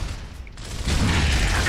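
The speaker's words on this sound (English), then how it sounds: "Oh, I'm reloading." Mechanical clicks and ratcheting of a weapon being reloaded in the Gears of War video game, a short metallic sequence that swells into a louder, fuller clatter partway through.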